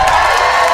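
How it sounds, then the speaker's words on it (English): A studio audience cheers and applauds loudly, a dense, steady wash of clapping and whoops filling the whole brief moment without a break. "A big applause for you on the way out"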